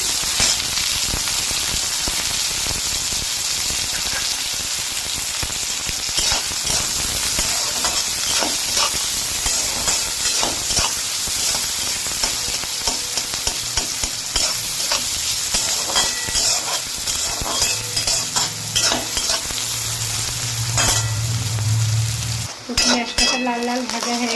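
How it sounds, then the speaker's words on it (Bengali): Chopped onions, two large ones, tip into hot oil in a home kitchen during a Bengali banana-stem and prawn dish, sizzling in a loud, steady frying hiss that swells near the end before cutting off abruptly. "ছোটো ছোটো যে পেঁয়াজটা বড় সাইজ দুখানা পেঁয়াজ কুচিয়ে রেখেছিলাম ওটা তেলের মধ্যে ঢেলে দেবো"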